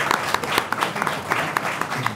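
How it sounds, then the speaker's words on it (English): Steady audience applause with dense overlapping claps from a crowd at a district council candidate forum, filling the room at a sustained, even level throughout. "let's give them a round of applause for the lightning round"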